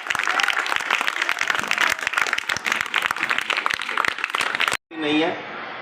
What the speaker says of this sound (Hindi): बजती रहे तालियां।